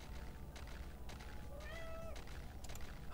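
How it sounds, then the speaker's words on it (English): A pet cat gives a single clear meow, rising then falling, heard against a steady low background hum, moderately near and alone without talk. "Oh, what does my cat want?"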